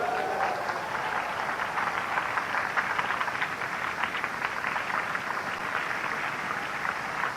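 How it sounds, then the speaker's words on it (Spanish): Sustained applause from a sizeable audience at a 1998 religious gathering in La Paz, steady and even throughout, with no voices standing out. "Denle un aplauso al Señor."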